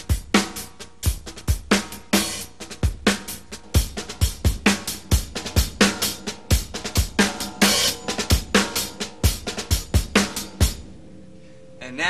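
Drum kit playing a slow, march-like groove alone, steady accented snare and bass strokes laced with quick double ghost-note drags, close and fairly loud, a short decaying cymbal wash at the end.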